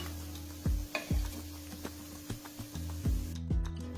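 Sweet potato cutlets frying in oil with a soft, steady sizzle, broken by several sharp low knocks of a utensil moving the pieces in the pan.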